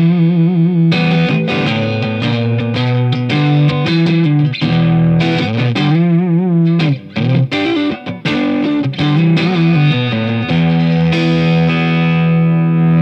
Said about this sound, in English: how you can go from clean to really great rock tones with just the volume knob and the Plexitone low gain